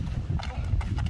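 Hooves of a horse clip-clop in a quick, steady rhythm, moderately close, with faint voices in the background.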